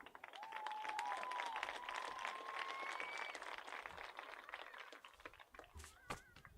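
A stadium crowd at a high school football game, Valley Heights vs Bennington, cheers and applauds in a loud, sustained wash with a few whistles, then thins out toward the end.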